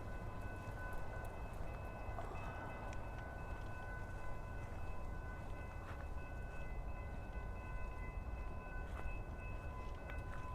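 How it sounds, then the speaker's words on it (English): A train rumbles past at a distance near a roadside attraction on the way to Arizona, a steady low mechanical drone with faint tonal whistle-like lines, heard alone without talk. "Train's right over there, if you hear that"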